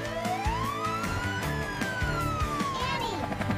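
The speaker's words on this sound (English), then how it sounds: "Sirens on! Clear the road!" An emergency vehicle siren in a children's cartoon wails, rising and falling in pitch, over busy background noise with children's voices.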